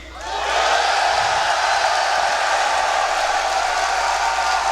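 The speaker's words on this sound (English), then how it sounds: "I want to know who in the crowd is cheering for Navi" A large arena crowd at The International 3 Dota 2 grand final between Na'Vi and Alliance roars in a sustained, loud wall of cheering that swells in quickly and holds steady.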